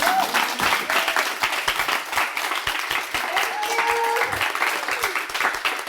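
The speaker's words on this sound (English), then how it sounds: "Everybody clap and we'll bring it to an end" Audience applause closing a live Q&A session, steady and sustained throughout with dense overlapping claps, a few faint voices and tones mixed underneath.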